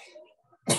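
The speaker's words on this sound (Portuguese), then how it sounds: "Bem na hora agora, a tosse resolveu." A single sharp cough bursts out near the end after a brief trace of quiet voice, loud and close to the microphone.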